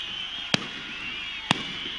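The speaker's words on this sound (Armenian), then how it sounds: "այս հրավառությունը" Fireworks celebrating the Armenian National Cup final victory of FC Shirak in Gyumri, two sharp distant bangs about a second apart over a steady outdoor hum.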